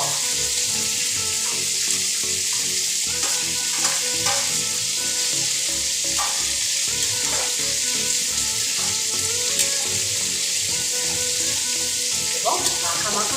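Fried okra goes into a pan of boiling gravy for an onion-free, garlic-free Bengali vegetarian dish. A loud, steady sizzle runs throughout, with occasional scraping and stirring clatters close by and no talking.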